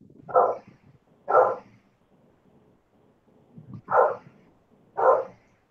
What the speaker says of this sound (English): My dog never shuts up.